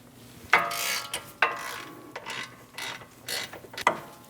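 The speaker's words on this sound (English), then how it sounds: "Using a E20 bit, we're going to remove the 2 caliper bolts." A hand ratchet with an E20 bit removes caliper bolts on a 2011-2027 Dodge Durango, giving several separate clicking pulls with short pauses between strokes, close and clear.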